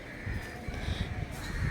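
A crow cawing from a rooftop as it comes for food, a harsh call that is heard faintly over steady outdoor background noise with some low rustling.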